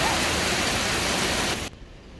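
Rain falls in a dense, steady hiss that fills the air for about a second and a half, then cuts abruptly to a much quieter background.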